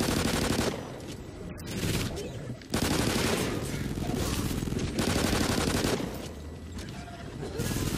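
Rapid pistol gunfire in a multiplayer shooter game, loud bursts of repeated shots running almost continuously with brief pauses, accompanied by scattered talk.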